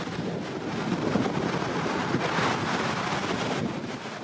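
Surf-break waves roll in at Batu Bolong beach in Canggu, Bali, a continuous roaring wash muddied by heavy wind buffeting the microphone, with no voices.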